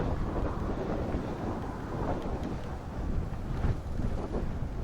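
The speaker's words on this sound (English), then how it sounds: "That wind is getting cold." Cold wind buffeting a microphone outdoors on a cycling trip in Texas, a dense rumbling roar with gusty swells, loud and close throughout.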